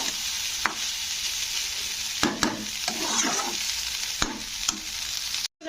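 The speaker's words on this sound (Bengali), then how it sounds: "তো রাইসটাকে একটু ভেজে নিতে হবে ভালো করে।" Green coriander rice fried and stirred in a pan: steady close sizzling with repeated sharp scrapes and knocks of a spatula against the pan, no talk.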